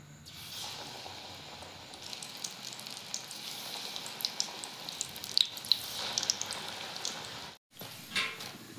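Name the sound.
banana flower chops frying in oil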